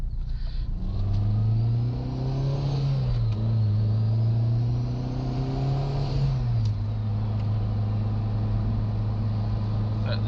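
A Honda Civic Si with a newly fitted turbo cruises along, its exhaust a steady low drone that rises and falls gently with the throttle, with a voice talking over the engine throughout.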